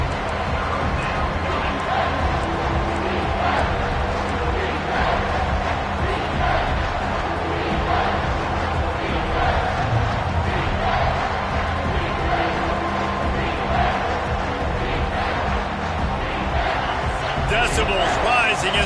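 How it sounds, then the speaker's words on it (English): Stadium crowd in a college football video game, a steady loud wash of crowd roar during a third-down defensive stand, with a commentator talking over it throughout. "Decibels rising as the crowd gets behind this defense on third down."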